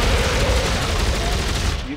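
Dense, continuous gunfire from the video game Dead Space 3 rattles loudly for two seconds, a rapid stream of shots with no pause between bursts.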